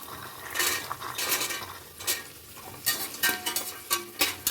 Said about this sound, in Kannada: ಎಲ್ಲ ಚೆನ್ನಾಗಿ ಫ್ರೈ ಆಗಬೇಕು.